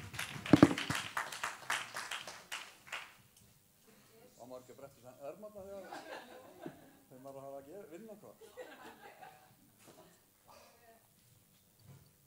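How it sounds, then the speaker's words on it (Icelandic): A church congregation claps briefly for about three seconds, then the applause fades into voices talking with light chuckles. "Já, gefum Jesú gott klapp."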